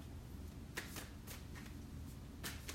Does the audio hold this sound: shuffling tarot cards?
yes